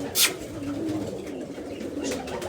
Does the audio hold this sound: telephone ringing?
no